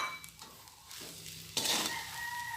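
Corned beef fried rice is stirred in a frying pan, close scraping and tossing over a soft sizzle in short bursts.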